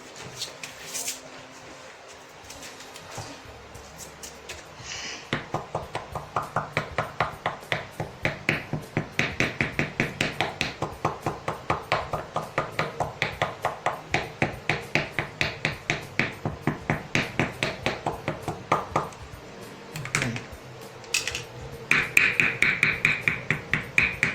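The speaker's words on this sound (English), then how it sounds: "you can use your hammer to just hammer it down" Rapid, steady hammer taps pressing down material wrapped on a women's shoe heel, dozens of quick blows in an even rhythm, close by, with a few pauses.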